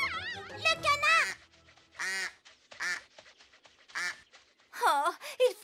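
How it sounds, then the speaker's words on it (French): Cartoon duck quacks in a French-dubbed Enchantimals animated episode, several bursts of nasal, warbling quacking spread across the moment, fairly close, with character voices speaking in between. "Le canard."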